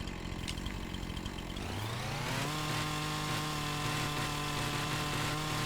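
A chainsaw trims a log in Farming Simulator 25, the engine spinning up from a low idle into a sustained high-revving whine that holds steady and loud to the end, with no talk.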